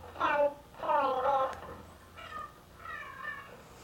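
An animatronic robot project speaks in a synthesized voice: a few short, tonal, slightly mechanical phrases separated by pauses. The voice is close and moderately loud.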